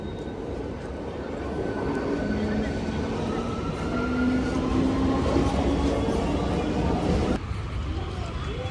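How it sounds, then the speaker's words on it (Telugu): Two trains move past at the platform of Malakpet railway station, a steady near rumble of rolling stock with drawn-out horn-like tones, loud throughout before easing slightly at the end, with voices faintly in the background. "రెండు ట్రైన్లు మూవ్ అవుతున్నాయి."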